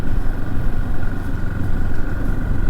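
A Moto Morini X Cape 650 (2023) motorcycle rolls over a speed bump at 50 km/h, its engine droning loud and close in a steady low rumble throughout, with no talking.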